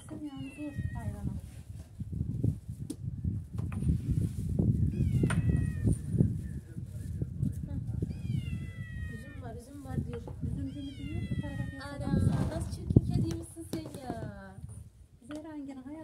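Several kittens meow repeatedly outdoors, their high, rising cries coming in frequent bursts close by, while people talk steadily over them.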